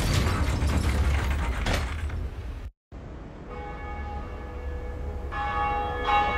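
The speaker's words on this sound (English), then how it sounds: "And with both bells ringing," A church bell tolls in the video game Dark Souls, ringing loud and reverberant over heavy mechanical grinding and creaking. After a brief silent gap a clear, sustained bell tone rises and swells again toward the end, with no speech.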